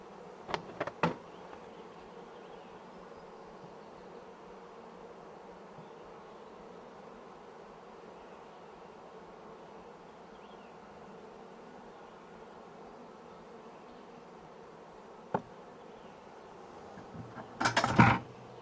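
A honeybee swarm hums steadily around hive frames, a soft, continuous drone throughout, with a few sharp knocks near the start and a clatter of handling at the end.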